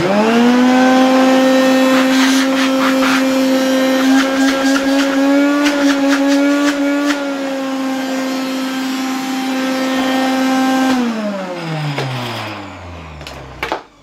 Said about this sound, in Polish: Bardzo ładnie i bardzo mocno ten odkurzacz zasysa.